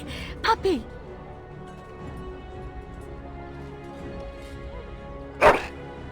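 A dog in the fantasy role-playing game Dragon Age: Origins gives two short, sharp bursts of barking, one near the start and one near the end, over a low steady background hum.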